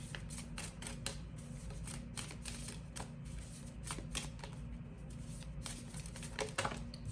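Tarot cards shuffled and drawn from a deck: a quiet, close series of rapid papery riffles and snaps in irregular bursts, with no one speaking.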